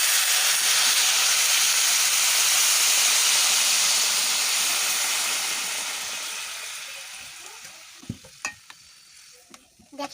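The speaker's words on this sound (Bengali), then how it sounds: "এখন আমি ঝোলের জলটা দিয়ে দিচ্ছি।" Water poured into a pan of cooking curry, a loud broad sizzling hiss that dies down gradually, followed by a few scattered clinks and stirring noises near the end.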